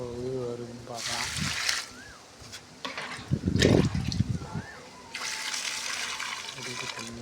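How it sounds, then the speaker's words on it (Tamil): Water is poured onto garden plants such as betel and cassava, coming in splashing, trickling bursts between pauses, fairly close and moderately loud, with a person talking over parts of it. "செடிக்கு தண்ணி ஊற்றுவோம்."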